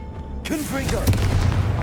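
In the video game Hogwarts Legacy, a Confringo blasting spell fires with a sudden loud booming burst partway through, followed by a crackling rumbling tail, with a voice heard just around the blast.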